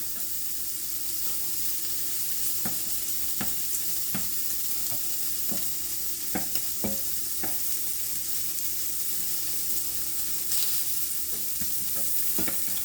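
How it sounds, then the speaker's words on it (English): Smoked sausage links sizzle steadily in a frying pan, a constant crackling hiss with occasional sharp pops and light clicks of stirring. "Already sizzling"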